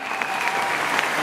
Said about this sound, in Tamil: ஒரு பெரிய கைத்தட்டல் கொடுத்து அவரை ஸ்டேஜுக்கு கூப்பிடலாமா?